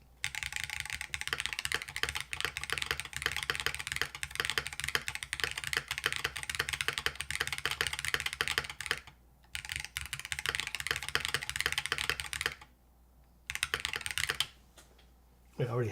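Rapid typing on a Zoom64 Hall Effect keyboard fitted with PBT keycaps and diamond switches, dense clacky keystrokes close up with a few brief pauses; a voice faintly present underneath.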